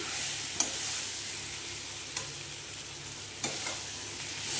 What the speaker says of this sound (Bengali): বন্ধুরা এইবারে দিয়ে দেব ধুয়ে রাখা গোবিন্দভোগ চালটা দিয়ে ভালো করে কষে নেব।